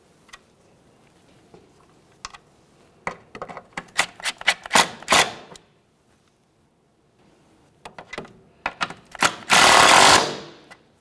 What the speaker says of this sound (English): Start in that 10mm headed mounting bolt, snug it up.